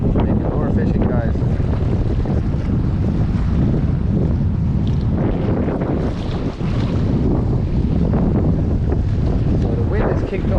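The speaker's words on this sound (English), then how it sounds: "So the wind is kicked up here" Strong wind roars steadily across the microphone while lure fishing from a boat on open water, with waves slapping and someone talking over the constant buffeting.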